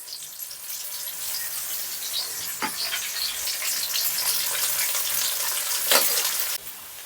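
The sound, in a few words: curry leaves added to Gongura crab curry, frying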